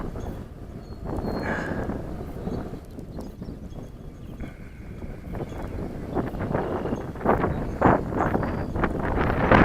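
Steady outdoor wind rushes across the microphone while a large Volantex 1600 glider is flown in strong wind, with gusts swelling and buffeting louder toward the end and no voices heard.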